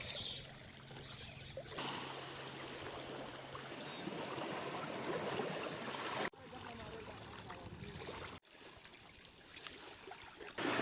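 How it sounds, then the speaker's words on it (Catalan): Sea waves washing in as the tide turns on a West African shore, a steady broadband wash of surf close by with a continuous high insect-like hum, with a couple of abrupt breaks near the end. "Ara veieu les onades aquestes aquí?"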